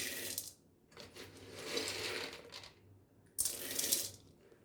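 Roasted chana dal poured into a pan for idli podi, a dry rattling patter of small hard lentils landing in bursts, with brief pauses between pours.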